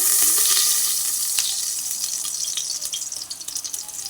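Oil poured into a hot pressure cooker for beef biryani sizzles and hisses loudly at first, a bright steady frying crackle that eases and turns more uneven as it settles, with no voices over it.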